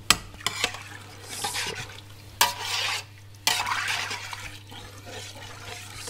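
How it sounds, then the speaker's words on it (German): Spoon scraping and stirring across the bottom of a pot of goulash soup with beef broth, several bursts of scraping and liquid churning at close range, with a steady low hum underneath. "Also schön ein bisschen über den Boden kratzen,"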